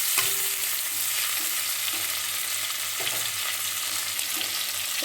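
Prawns fry in hot oil with a steady, dense sizzle close by, a continuous crackling hiss with a few soft stirring knocks.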